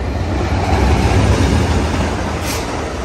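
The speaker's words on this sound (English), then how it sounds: "here comes Amtrak Coast Starlight train number 11" A loud, close rumble of Amtrak Coast Starlight train 11, led by P42 Genesis locomotives, rushing past Oakland Coliseum Station at speed, with a steady roaring rattle of wheels on track.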